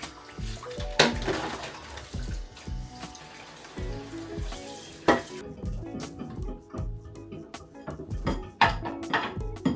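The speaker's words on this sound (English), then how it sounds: "wash some dishes." Water runs and splashes in a kitchen sink while dishes are washed, with irregular clinks and knocks of crockery scattered throughout at close range.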